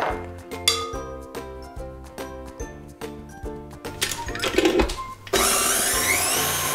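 A mixing machine churns coconut, flour and yeast for a coconut pie, with a rhythmic mechanical whir and clinking. A louder, steady motor roar takes over near the end.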